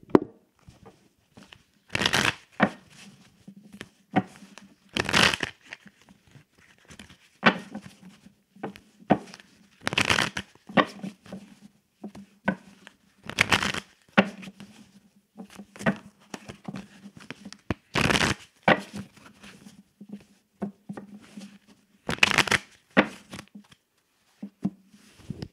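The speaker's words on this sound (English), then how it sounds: "I'm going to shuffle my cards" Playing cards shuffled in repeated bursts before a psychic reading, each a sharp riffling flurry, separated by short pauses, close and fairly loud with a faint hum between.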